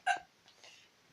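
A quick, brief burp in a burping competition, close and moderately loud, followed by soft faint rustling in an otherwise quiet room.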